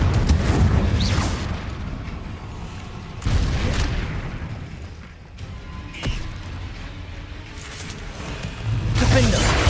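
Booming blasts from the Confringo blasting spell in Hogwarts Legacy on PS5, several broad bursts spaced a few seconds apart, loud and close over continuous battle noise, with a voice calling out spell names in between.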